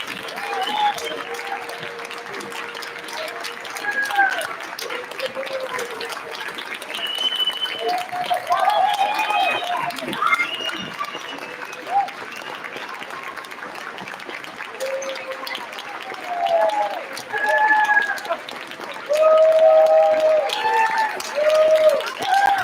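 Continuous audience clapping at a first and second grade school concert, moderate and uneven in loudness, with an adult voice and children's chatter running over it throughout.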